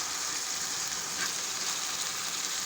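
Beef keema with garlic ginger paste frying in oil, a dense, even hiss of sizzling held at a constant level from start to finish, with no voices.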